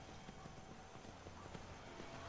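Horse hooves clip-clopping in the Skyrim video game around the Solitude area, a quiet, steady walking rhythm of soft thuds.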